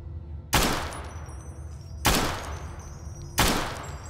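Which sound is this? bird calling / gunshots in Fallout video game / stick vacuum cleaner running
gunshots in Fallout video game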